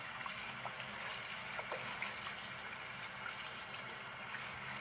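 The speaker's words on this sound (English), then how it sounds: "Turn on the water here." Kitchen tap water running steadily while a cleaned trout is rinsed, a continuous soft hissing splash at low level with faint trickling detail.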